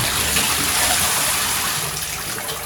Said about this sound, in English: And I will turn on the diverter.